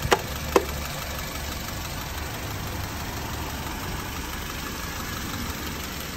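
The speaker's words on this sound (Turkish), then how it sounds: "Aracın çalışması gayet güzel." Repaired car engine idling steadily after a cylinder head crack and new Delphi ignition coil, a continuous low rumble with two brief clicks near the start.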